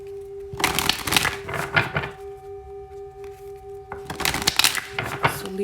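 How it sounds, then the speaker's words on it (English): Tarot cards are shuffled in two soft, papery bursts separated by a pause, set against a steady electrical hum, with a faint knock in between and no talking. "So let me pull a few more cards before we close this out."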